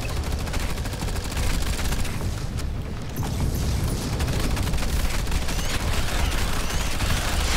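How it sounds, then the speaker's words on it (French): Sustained submachine gun fire in the sci-fi shooter Firefall, a dense, continuous rattle of rapid shots that stays loud and steady throughout with only a brief dip partway. "l'arme secondaire, comme on disait, c'est votre mitraillette"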